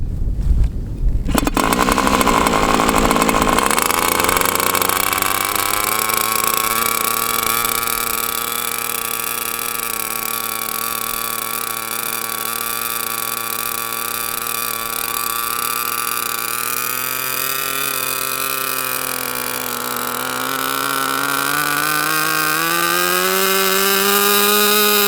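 A Sport Jett 90LX engine with strong compression is started: a short burst of starter cranking is followed by a loud, steady engine drone that holds and then climbs gradually in pitch near the end.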